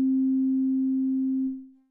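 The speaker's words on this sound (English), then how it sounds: "we've got the low pass filter closed all the way and we're hearing a sine wave" An OP-1 Field synthesizer plays a pure, steady low sine tone with its low-pass filter fully closed, holding loud and unchanging for about a second and a half before fading out smoothly, with no other sounds.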